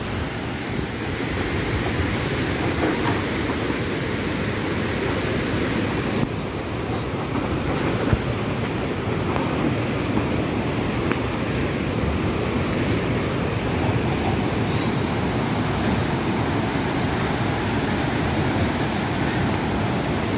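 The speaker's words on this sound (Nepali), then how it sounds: "खोलो एकदमै इन्द्रावती खोला हो यो चाहिँ।" The flood-swollen Indrawati river near a hydropower dam rushes in a loud, steady, close roar that never lets up, with no voices over it.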